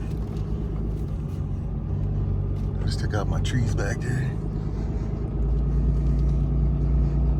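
A truck pulling a loaded hooklift trailer with a 24,000 lb GVWR rumbles along the road, its engine drone low and constant from start to end, while someone talks over it from inside the cab.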